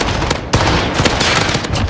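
Loud, dense gunfire in the Call of Duty: Modern Warfare video game, with rapid overlapping shots and bursts filling the whole moment and no talking.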